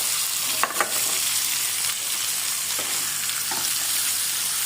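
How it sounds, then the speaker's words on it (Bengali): Fish pieces coated in turmeric and salt frying in a pan, a steady close hiss of hot oil with a couple of soft clicks and taps near the start, no voices. "মাছগুলিকে হালকা করে ভেজে নিতে হবে।"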